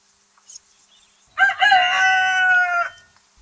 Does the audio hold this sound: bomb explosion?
no